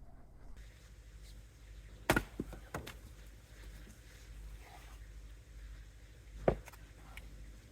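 Logs being stacked outdoors, heard as a few sharp wooden knocks and thuds spaced apart over faint wind and quiet background.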